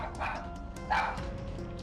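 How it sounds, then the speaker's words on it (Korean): A small dog barks fiercely at visitors indoors, two sharp, agitated barks at moderate distance over a faint room background. "외부인이 방문하면 격하게 짖어댔던 루루."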